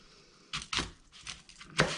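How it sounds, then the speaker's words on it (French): A knife slicing an apple in half on a cutting board: a few short crisp cuts and taps, close and fairly quiet, with no voices. "On coupe d'abord la pomme en deux."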